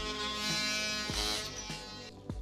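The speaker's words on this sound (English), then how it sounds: "So that's what we're gonna do right now is cut a little hole" A small handheld power tool cuts a little hole in an interior wall between studs, giving a close, steady buzzing whine that dips in pitch several times as the blade bites into the material, with no talking.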